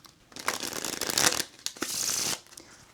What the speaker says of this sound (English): I'm gonna give this deck a couple shuffles